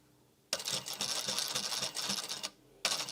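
A sewing machine stitches slowly over the pleats of a fabric face mask. The quiet rhythmic whirring runs for about two seconds, stops briefly, then starts again.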